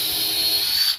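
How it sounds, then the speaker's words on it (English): A small drill marks the center hole of a radius drawn on a concrete countertop form, giving one close, high whirring burst that holds steady for under a second and then stops. "I'm also going to mark the center hole of my radius with a little drill"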